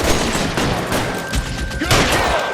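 Dense, rapid gunfire from a shootout in the video game L.A. Noire, with overlapping shots forming a steady close barrage for the whole stretch.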